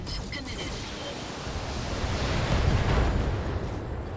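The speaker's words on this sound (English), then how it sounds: "Little ammo explosion action." Game mech in BattleTech suffering an ammunition explosion: a broad, rumbling roar of noise that swells toward the middle and lingers, thick and loud, with no talk over it.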